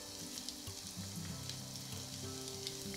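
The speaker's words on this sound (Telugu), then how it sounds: "ఇప్పుడు దాంట్లో 1 టేబుల్ స్పూన్ ఉల్లికాడలు వేసుకోండి. ఇలాగా మెల్లగా ఫ్రై చేసుకోండి." Chicken frying gently in butter with chopped spring onions in a pan, a steady soft sizzle with faint stirring, heard alone without speech.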